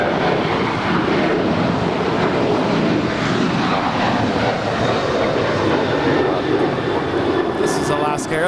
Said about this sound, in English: This is Alaska Airlines Flight 224 departing to Liberia. It's a 13-year-old 737-800.